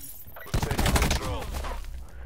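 Rapid burst of gunship cannon fire in Call of Duty, a dense run of loud shots lasting about a second and a half, then fading into a lower rumble.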